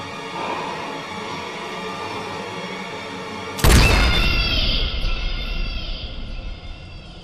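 A single pistol shot in BioShock 2 bursts out sharply and loudly partway through, over a steady game ambience, followed by a ringing, slowly fading tail.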